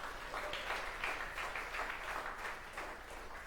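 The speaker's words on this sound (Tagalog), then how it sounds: "Palakpakan muli si Lord." Church congregation clapping together, a faint, steady wash of applause from a crowd that continues evenly for a few seconds at a distance.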